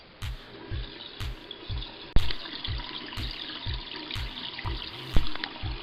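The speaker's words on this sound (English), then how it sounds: "Turn on the water and wait for it to get hot." Hot tap water runs steadily into a sink, a continuous close splashing stream with a few sharper clinks and knocks over it, no voices.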